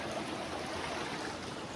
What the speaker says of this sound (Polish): Wyżej szypoty na skalnych progach.